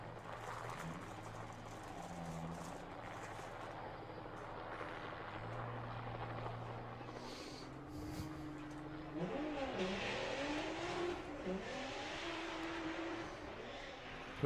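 A 150 mph Volkswagen Jetta drag car at Santa Pod's Festival of Power launches from an idle start and pulls hard down the strip. The engine climbs and shifts through rising harmonics, loud and continuous, with crowd and track ambience behind it.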